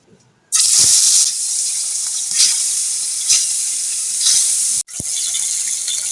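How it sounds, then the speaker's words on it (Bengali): Fish coated in salt and turmeric spice paste frying in hot oil, a loud steady hissing sizzle that starts abruptly and runs throughout, with a brief sharp dropout near the end before the sizzle resumes. "এখন আমি মাছটা ভেজে নেব"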